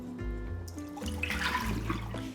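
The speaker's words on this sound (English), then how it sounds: "Rinse with water. I usually rinse a few times." Running water from a tap splashes steadily as soup ingredients are rinsed for a Chinese daikon and burdock root soup, a close, continuous wash with small splashing surges.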